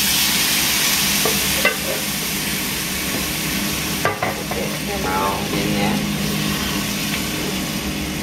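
Diced tomatoes, basil, garlic and oregano tip into a hot pan for lasagna sauce, giving a steady close sizzle with a few soft clatters and stirring scrapes throughout.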